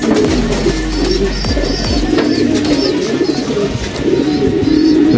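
Pigeons in a breeding loft coo repeatedly, close and loud, with soft overlapping calls, wing flutters and low rumbling coos layered over one another throughout.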